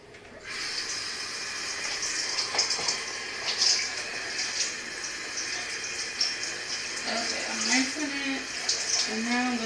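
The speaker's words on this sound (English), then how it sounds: "Now I'm going to rinse this" Prickly pear cactus pad rinsed under a running tap, a steady close splash and hiss of water with shifting gurgles as the pad is turned, a voice speaking briefly over it.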